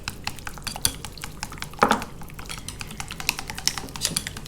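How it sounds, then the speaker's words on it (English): An egg yolk being whisked into moussaka sauce off the heat: rapid, close metallic clicking of a whisk against a bowl in a continuous busy rhythm, with no talking. "I'm just going to whisk into the sauce"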